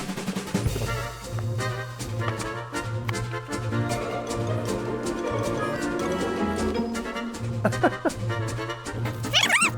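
A battery-powered boxing Siberian Husky toy barks in a steady run of electronic yaps over a looping mechanical whir, loud and close, with a rising chirp near the end.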